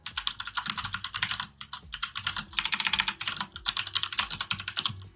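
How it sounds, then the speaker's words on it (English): Soft, rapid keystrokes on a quiet computer keyboard come in steady bursts with brief pauses, close and clear, alone without talk. "You have the quietest keyboard ever."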